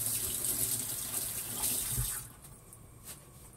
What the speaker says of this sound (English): Let me wash this sticky garlic off my fingers.